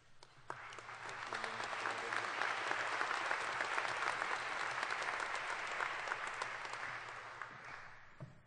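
Sustained, dense applause from a large audience at a university engineering senior recognition ceremony, steady throughout without talk, swelling slightly in the middle before easing off.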